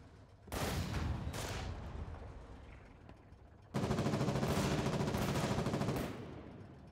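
Sustained automatic gunfire in the war game Foxhole, two long loud bursts of rapid shots, the second heavier and denser, with no talk over them.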